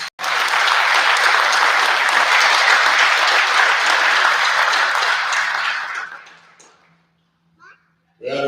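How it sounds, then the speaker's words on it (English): Loud, sustained applause from an audience at a corrections officers academy graduation, a thick wash of clapping that holds steady for several seconds, then fades out into near silence before a brief burst returns at the end. "Please let's give them a round of applause."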